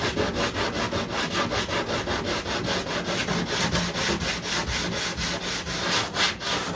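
Body filler laid over foil tape on a 1969 Corvette C3 is sanded by hand, with loud, steady back-and-forth scratching strokes in fast, even rhythm, close up and without talk.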